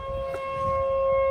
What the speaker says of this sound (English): you hear that siren? We got a mayday. Tornado warnings, baby.